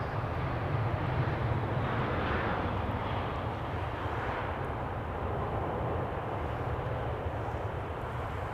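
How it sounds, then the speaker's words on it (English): KLM Boeing 747 at Amsterdam Schiphol rolling for takeoff, a steady, distant broadband engine roar that holds level throughout with no talk. "KLM 747 is rolling"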